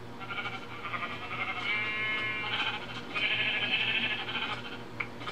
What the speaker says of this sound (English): There's another sheep behind you.